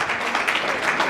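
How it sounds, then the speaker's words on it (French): An audience applauds two artists at the Zonzing Awards ceremony, dense continuous clapping filling the hall for a brief moment. "Est-ce qu'on peut applaudir pour nos deux artistes une fois de plus?"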